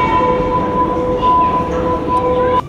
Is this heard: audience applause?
no